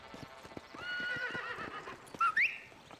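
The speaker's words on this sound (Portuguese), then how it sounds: "O meu cavalo." A horse in the Red Dead Redemption video game whinnies sharply over rhythmic clip-clop hoofbeats, the neigh rising loud and close near the end.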